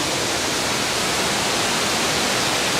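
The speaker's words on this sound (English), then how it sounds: "That's a noisy waterfall." Loud, unbroken rush of a noisy waterfall near the St. James Gate Guinness brewery in Dublin, a dense wash of white water with no pauses or voices.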